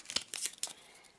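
A deck of skill cards from an Arkham Horror board game is shuffled by hand, a quick burst of several crisp riffling, papery snaps over about a second, close and fairly quiet.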